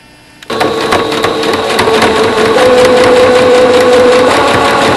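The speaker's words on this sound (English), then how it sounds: "I'm going to sew with a straight stitch using the seam allowance that's called for this size" Sewing machine running a straight stitch through layers of cloth diaper fabric, starting abruptly after a brief quiet moment and then humming steadily and loudly at close range with a fast even mechanical whir.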